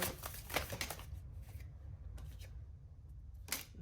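A Madame Medora tarot card is drawn from the deck: soft papery shuffles and quick card flicks, several brief crisp rustles close by in a quiet room.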